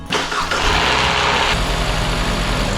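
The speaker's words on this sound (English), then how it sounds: "The car fired up." A car engine fires up after a timing chain replacement: a brief rough crank, then it catches and settles into a loud, steady idle close by.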